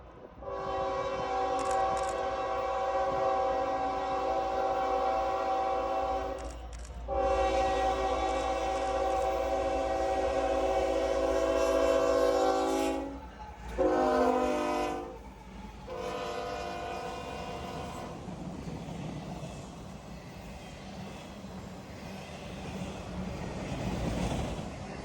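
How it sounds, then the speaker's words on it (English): A train passes at sunset near Folkston, its horn sounding in long loud blasts with short breaks, then the rumble and clatter of railcars rolling by as the horn fades. "there's one last train, with a beautiful sunset behind"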